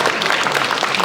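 Brief burst of audience applause, dense close clapping for about a second.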